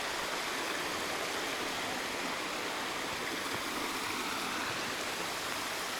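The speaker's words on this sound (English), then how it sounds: "So this is the water from the first waterfall," Water from a rainforest waterfall in Springbrook National Park running down as a stream, a continuous close rushing and splashing flow that holds steady and fairly loud, with no talking.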